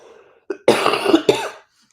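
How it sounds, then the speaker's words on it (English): A single close cough, a short catch followed by a harsh burst and a second shorter hack, then quiet. "As I cough in my elbow, though nobody's here."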